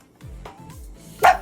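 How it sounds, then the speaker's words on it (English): A pug barks once, short and close, with a yippy bark near the end of a brief stretch; low indoor rumble underneath and no talking. "Stop barking so Mama can do it."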